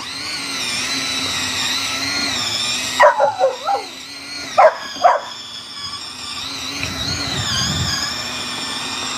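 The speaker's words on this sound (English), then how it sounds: "If he barks too much, I'm going to have to put him in." Small dog barking and yipping in a few quick bursts, close by, over a steady background whir of a small battery-operated machine.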